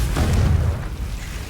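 A Confringo fire blast spell in Hogwarts Legacy, heard as a loud, low, booming burst that swells and then rumbles off over a second and a half.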